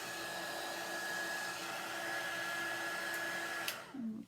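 A handheld heat tool or dryer blows steadily with a loud whooshing hum and a thin whine while drying a chalk design, then is switched off and winds down at the end.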